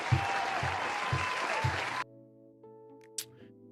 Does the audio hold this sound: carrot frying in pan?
no